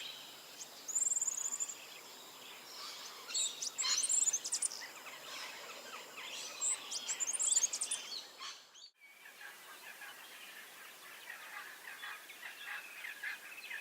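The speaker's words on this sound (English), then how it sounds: "Small rusty brown bird with finely streaked plumage and long cocked tail, found in rocky areas and gorges around spinifex clumps of Central Australia" A small rusty-brown, finely streaked bird with a long cocked tail calls from rocky spinifex country in Central Australia, with high thin chirps and trills repeating in bursts against a quiet outdoor background.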